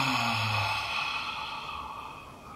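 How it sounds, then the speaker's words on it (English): A slow, deep breath drawn in through the nose during a guided meditation, soft and close with a steady airy hiss that gradually fades. "So we'll start with a deep breath in through the nose."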